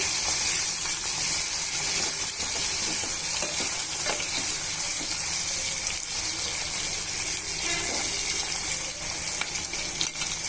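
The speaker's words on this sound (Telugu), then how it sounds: "ఉల్లిపాయలు పచ్చిమిరపకాయలు వేగిపోయాయి" Sliced onions and long-cut green chillies frying in oil in a pan: a loud, continuous hiss of sizzling with faint scattered clinks of stirring throughout, no talking.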